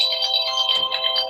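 A phone ringtone plays clearly and continuously at close range, a bright electronic melody of repeating tones with no voices over it.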